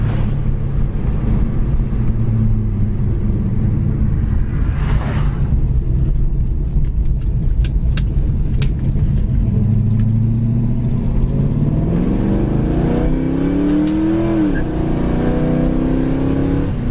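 A 1975 Plymouth Duster accelerates hard, its engine droning steadily and then climbing in pitch after a shift into second gear, with a short tire chirp amid loud road and wind noise from inside the car.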